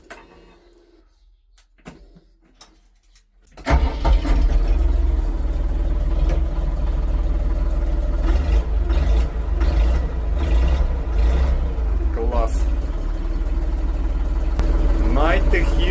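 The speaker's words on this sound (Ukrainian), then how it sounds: "а послухайте звук, який двигуна" After a quiet start, the diesel engine of a Terra Feng 3254HXC tractor starts and runs steadily with a deep, loud, constant drone, heard from close by.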